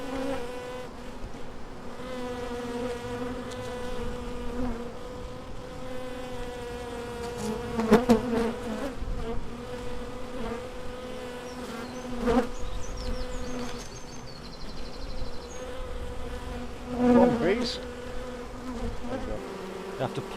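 An Africanised bee colony hums in a dense, continuous buzz, close and loud, with individual bees droning past and swelling now and then.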